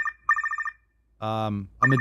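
A telephone rings for a call-in on a live advice show, two bursts of bright trilling bell tones separated by a brief speech-like sound and a pause, loud and close.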